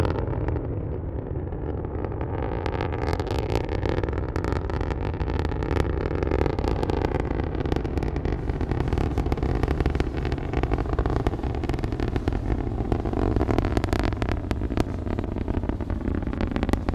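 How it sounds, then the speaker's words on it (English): Continuous roaring rumble of a Falcon 9 rocket's nine Merlin engines during launch from Florida's Space Coast, heard from a distance, steady and broadband with crackling texture throughout. "Let's listen to the roar of those 9 Merlin engines."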